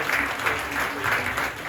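Audience applause for candidates on an election list presented at a political meeting in Pointe-à-Pitre: steady, dense clapping from a crowd, close and continuous throughout, with no voices standing out.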